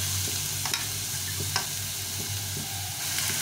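Grated bottle gourd frying in a pan for a milky gourd dessert, a constant sizzle with a low bubbling hum under it and scattered scrapes and taps of a spoon stirring, steady and close.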